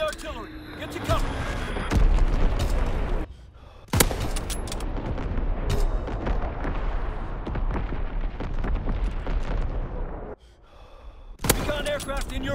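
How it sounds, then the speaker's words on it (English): Artillery in Call of Duty: WWII gives loud booming blasts and gunfire bursts, with several heavy impacts and short quiet gaps between them, dense battle noise throughout. "Incoming enemy artillery. Get to cover."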